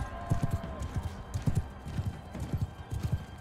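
Horses gallop in Mount & Blade II: Bannerlord with a steady, loud clip-clop of hooves. A brief whinny sounds near the start, and the hoofbeats run in repeating bursts throughout.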